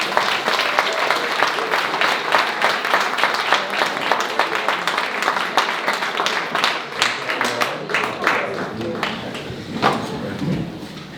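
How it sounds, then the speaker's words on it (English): An audience applauds the songwriters after an evening of performances at a small music venue, a lively round of clapping that stays full and steady, then thins into scattered claps toward the close. "Please give them all a big round of applause."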